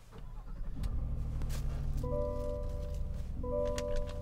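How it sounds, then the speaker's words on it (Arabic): A 2023 Chevrolet Tahoe LT engine cranks and fires up, then settles into a steady, close idle with rising tonal hum, heard alone without talk. "شغل السيارة"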